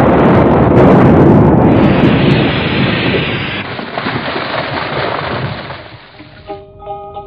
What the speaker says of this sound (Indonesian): Aku seperti mendengar suara ledakan keras dari arah sana datangnya